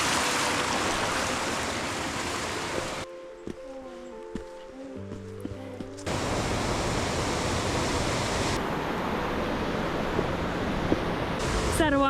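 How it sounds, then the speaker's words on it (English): Grotto Falls, a 20-foot waterfall in the Great Smoky Mountains, roars as a broad, steady rush of water, loud and close, briefly dropping away partway through before the torrent resumes. "Is that a waterfall? This is Grotto Falls. It is a 20-foot waterfall"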